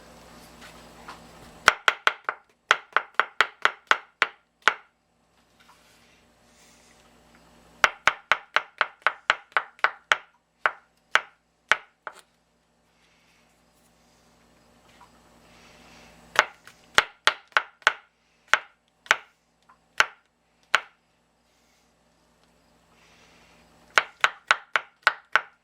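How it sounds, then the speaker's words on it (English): Baby bella mushrooms being chopped with a knife on a board, giving several bursts of quick, crisp, evenly spaced chops, each burst followed by a short pause before the next. "We get our mushrooms chopped."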